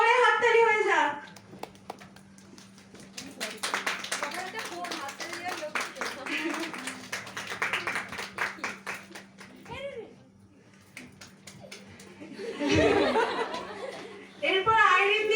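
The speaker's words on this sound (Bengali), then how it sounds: "এবার জোরে হাততালি হয়ে যাক।" A crowd at an indoor workshop gathering breaks into loud, sustained clapping with scattered laughter and chuckles, after a voice speaks; the applause fades briefly, then another voice speaks over renewed murmuring.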